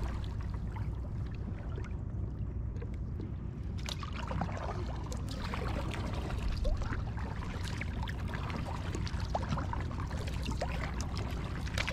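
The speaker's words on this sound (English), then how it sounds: "I was surprised how shallow the water was when paddling the marsh toward the open water of the Matanzas River" A kayak paddles through shallow marsh water toward the Matanzas River, with steady splashing, dripping and trickling paddle strokes close by and no voices.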